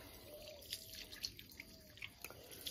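Someone rinses their hands under running water, heard as faint, close trickling and dripping splashes that sound soft and irregular, with no talking.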